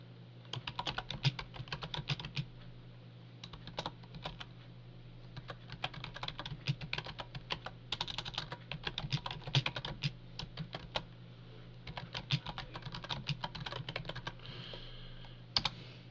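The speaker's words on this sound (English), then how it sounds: "type in /w space the name and then the message" Fast, uneven typing on a computer keyboard, close and clear, with bursts of key clicks separated by short pauses and a low steady hum underneath.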